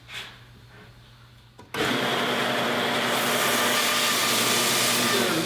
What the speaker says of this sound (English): I'm just gonna save some time and use this belt sander.